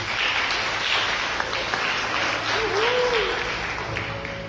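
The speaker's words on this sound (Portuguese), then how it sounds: "E eu peço a salva de palmas da igreja para eles." A church congregation breaks into sustained applause, steady and dense clapping throughout, with a faint voice briefly in the background.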